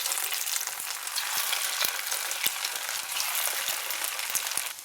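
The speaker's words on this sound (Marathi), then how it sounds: "अशा पद्धतीने एक एक करून भजे तोडून घ्यायचे तेलात।" Poha pakoras frying in hot oil over a medium flame, a steady close crackling sizzle with small pops and bubbles throughout, no voices.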